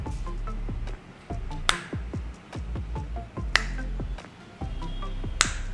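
Sharp hand claps near an Arduino Nano RP2040 Connect board's built-in microphone, a few spaced single claps with quiet gaps and low background hum between them.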